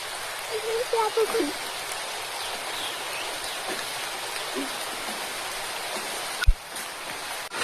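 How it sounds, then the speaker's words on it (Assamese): Heavy rain falls steadily as a dense, even wash of hiss throughout, with a brief thud near the end and faint voices in the background. "এইফালে দেখিছেনে দবা পিটা বৰষুণ আহিলে"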